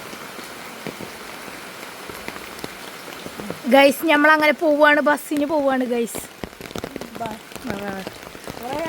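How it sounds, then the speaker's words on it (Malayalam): Heavy rain pours steadily at a bus stop in Pandikkad, a dense, continuous hiss of drops on surfaces throughout, while a nearby voice talks over it for several seconds. "നല്ല മഴ."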